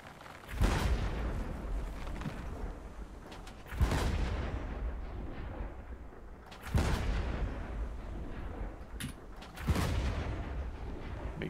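Four heavy video-game cannon blasts boom at spaced intervals, each followed by a long rumbling decay, with no voices over them.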